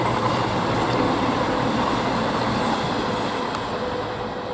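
A Great Western Railway IET train rumbles past close by at Didcot Parkway station, a loud, steady roar of wheels and carriages that holds constant and eases off slightly at the end.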